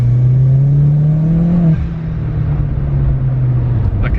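A modified Volkswagen Polo pulls away, its engine droning loud and close with a rising tone that drops on a gear change and then settles to a steadier hum.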